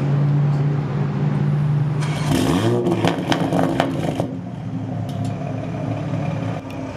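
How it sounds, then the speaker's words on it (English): Toyota Supra MK5 A90 engine starting up: a starter whine and catch lead into a loud, rising rev that settles into a steady idle rumble with some clatter, close by and with no talking. "And yeah, let's give you guys a little startup."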